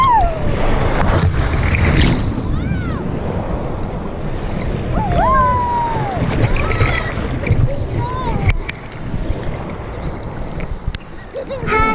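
Ocean waves rolling onto Nacpan Beach in El Nido, Palawan, a loud continuous wash with wind buffeting the microphone, while people talk and call out over it throughout.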